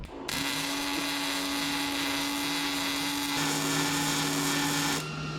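Wire-feed welder running a bead on a 1976 GMC short bed truck: a steady, loud electric buzz and crackle starting abruptly, holding for nearly five seconds with a slight shift in tone midway, then cutting off.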